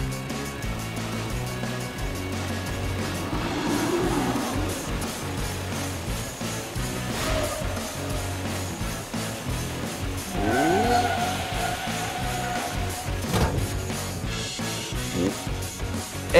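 Animated cartoon vehicles race through Car City as a super truck overtakes another car, with engines revving and tires whooshing past under a continuous music score.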